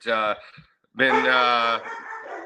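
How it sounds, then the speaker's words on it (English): Dogs bark loudly and close by in two bursts, a short sharp one and then a longer run of barking with whimpering yips, in a home in rural northeast Iowa. "sorry, I've got dogs that want to jump in too."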